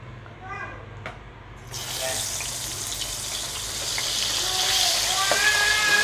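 Oil bursts into a loud, steady sizzle as chicken skin hits the pan, crackling continuously and growing slightly stronger, close by with no talking.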